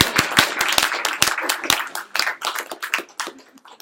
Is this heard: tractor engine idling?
no